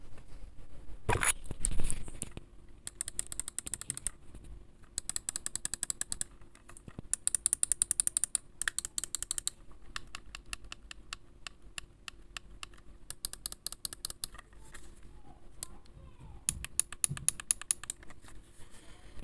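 Buttons on an inexpensive Everest X-Hole RGB gaming mouse click in quick, close-up bursts, with sharp, dry clicks arriving in rapid clusters separated by short pauses, and no voices.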